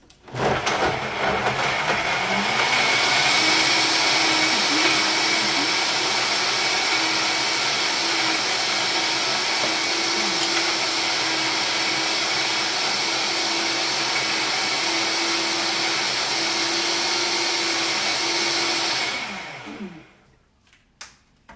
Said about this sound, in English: So let's blend this up.